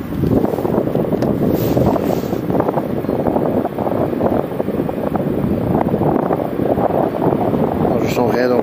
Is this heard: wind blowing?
yes